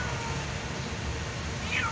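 A young nameless stray cat that lives under a container van gives a short meow near the end, heard against steady outdoor background noise with no talking.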